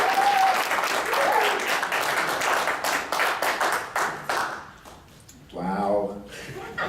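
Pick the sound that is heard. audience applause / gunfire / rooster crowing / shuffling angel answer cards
audience applause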